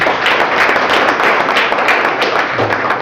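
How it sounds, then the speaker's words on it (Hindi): An audience at a leadership development program in Hiranpur, Pakur, Jharkhand bursts into loud, steady applause, a dense wash of many hands clapping for about three seconds. "जोरदार तालियां"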